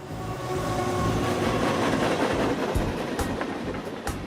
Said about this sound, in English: he can hear the train as it goes by.